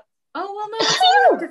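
A single close, fairly loud sneeze bursts out mid-sentence while someone is talking through knitting sweater patterns, with voiced, speech-like tone around it.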